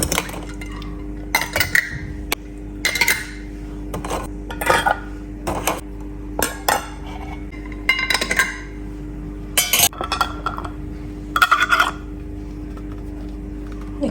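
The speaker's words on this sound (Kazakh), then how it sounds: "Крышкаларды жақсылап жаптық." Boiled metal lids are pressed and screwed onto glass jars of homemade tomato sauce with coriander and celery, producing repeated close bursts of clinking, clattering glass and metal separated by short quiet pauses.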